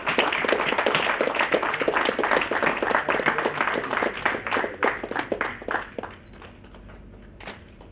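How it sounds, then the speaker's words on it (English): Audience applause at a startup conclave in Tamil Nadu, dense clapping from a large crowd that thins into scattered claps and fades out over the final seconds. "So let's give them applause."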